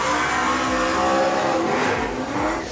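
Speedway race car engine revving hard at Oceanview Speedway in Wanganui, New Zealand, a loud, close, raw roar rising and falling in pitch through repeated wind-ups.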